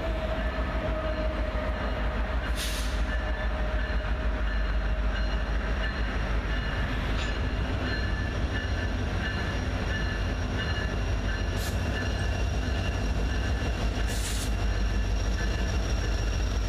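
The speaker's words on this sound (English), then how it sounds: "Next, another intermodal heads out of Conway Yard." Intermodal freight train rolling out of Conway Yard, a steady continuous rumble of railcars with occasional faint wheel squeals, heard at a moderate distance without speech.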